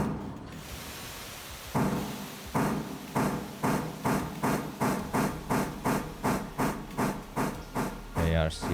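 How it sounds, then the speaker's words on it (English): A train handbrake being released in a train simulator video game: a steady run of about a dozen sharp, evenly spaced ratcheting clicks with hissy tails, loud and close, ending in a brief heavier clunk. "Let's release the handbrake."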